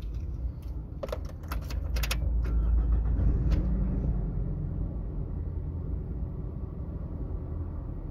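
Car driving along a road with the low-fuel warning lamp lit, a steady low rumble of engine and road noise with a few faint clicks and taps early on.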